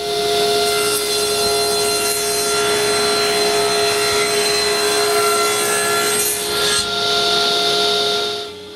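A power saw rips a board into cove-routed moldings for a dresser case, a loud, continuous whining cut with a steady tone that drops away right at the end.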